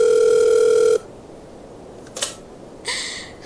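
A telephone sound in a radio drama: a steady tone for about a second cuts off abruptly, followed by a couple of brief clicks and a short receiver rattle, all alone without any voices.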